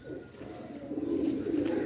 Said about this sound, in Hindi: ये देखें ये कबूतर है